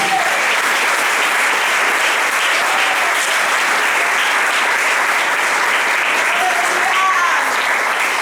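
A church congregation at a Holy Communion service breaks into loud, sustained applause, an unbroken wash of many hands clapping with a faint voice rising briefly within it.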